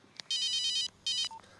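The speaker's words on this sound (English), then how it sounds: "Hey, that's my mobile phone." A mobile phone ringtone rings in a children's TV episode, two bright chiming bursts after a few short clicks, clear and fairly close with no talk over it.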